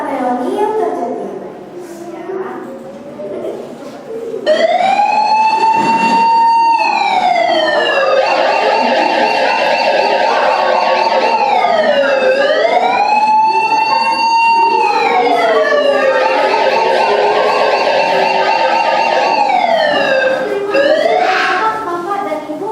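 A loud fire engine siren wails in a rising and falling pattern that repeats several times, close and dominant, after a quieter opening with speech during an Easter children's program in Jakarta.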